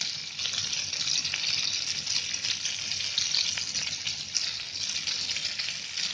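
Black rainy-season fish frying in oil over a medium flame, a continuous bright crackling sizzle that stays steady and close throughout, with no voices.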